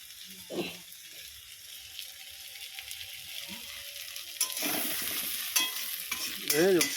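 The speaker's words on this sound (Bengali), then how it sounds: "তো আলুটা একটু ভেজে নিই" Potatoes frying in oil while crab is being cooked, a faint steady sizzle with occasional stirring scrapes that grow louder toward the end.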